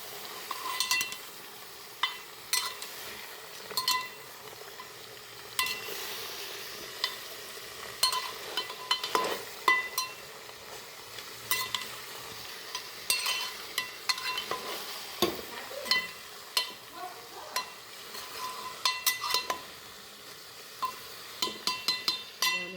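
Repeated stirring and sizzling of food frying in a pot, with frequent scraping clinks of a utensil against the metal, steady and close.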